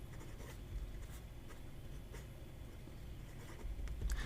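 A fountain pen nib scratching across paper in short, light strokes over a low steady background hum, faint and close.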